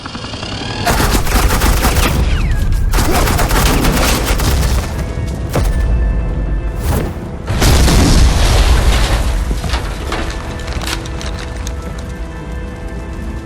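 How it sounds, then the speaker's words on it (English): Loud, close suppressing gunfire in Batman: The Enemy Within, heavy sustained bursts of shots and booms broken by brief pauses, with a second intense barrage partway through and rattling fire trailing off afterward. "This is Agent Quinn, suppressing fire."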